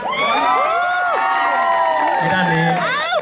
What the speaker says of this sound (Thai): เอาแล้วสิ ใครเชียร์เบอร์3ตบมือหน่อยครับ